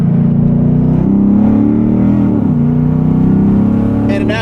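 A 2008 Lexus IS F with headers and a high-performance tuned exhaust drones loudly and steadily on a race track, its engine note holding a continuous low roar with a slight dip in pitch midway.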